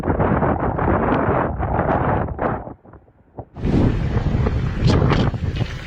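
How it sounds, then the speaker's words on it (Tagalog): Strong typhoon wind and rain batter Batanes in loud, roaring gusts that swell and fade, with a short lull before the storm surges back even harder. "ramdam na ramdam ang tila nagngangalit na ulan at hangin."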